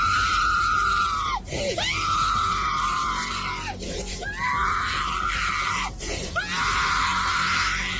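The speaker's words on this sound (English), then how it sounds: "this woman's screaming is completely insufferable, and it just went on and on and on." A woman screams loudly and at length, three long shrill wails separated by brief gasping breaks, close and piercing with little else audible.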